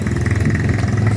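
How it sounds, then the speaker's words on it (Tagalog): A motorcycle on a highway, its engine a close, loud, throbbing drone that holds steady through the brief moment with no talk. "Ayan, may motor na."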